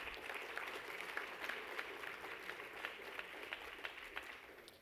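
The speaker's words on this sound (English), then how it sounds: "We can clap for them that are present." An audience applauding in a hall for board regents at a Kentucky State University gathering, a soft, distant patter of many hands that stays even before fading.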